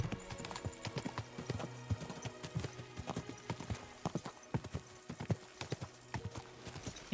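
Horse hooves trot in Kingdom Come: Deliverance II, a steady clip-clop of close, distinct hoof strikes in a brisk repeating rhythm, fairly quiet with faint background ambience and no talk.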